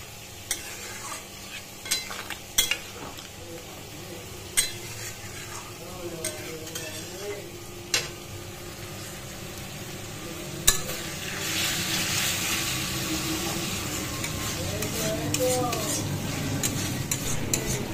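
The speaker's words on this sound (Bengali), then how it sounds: "এখন চিকেন পকোড়াগুলোকে ভেজে নিচ্ছি" Chicken pakoras deep fry in a pan in a home kitchen, bubbling oil under sharp intermittent clinks and taps of a utensil, the sizzle swelling louder and fuller midway through.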